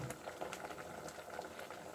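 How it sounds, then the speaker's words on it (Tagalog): Water with garlic skins boils in a pot, a soft continuous bubbling and gentle popping, fairly quiet and steady. "kumukulo na o"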